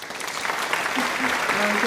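Applause swells into a continuous wash of clapping, fairly loud and steady for a couple of seconds, with a faint voice or tone threading underneath.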